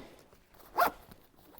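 A single quick zip of a backpack zipper on a 25-litre pack, one short rasping stroke near the mic amid quiet handling noise.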